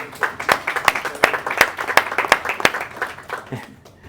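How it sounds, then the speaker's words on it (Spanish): A church congregation claps in a rhythmic unison beat, sharp regular claps about three per second with a softer patter between them, tapering off at the end while voices murmur underneath. "Dar un aplauso a Cristo por la vida de él"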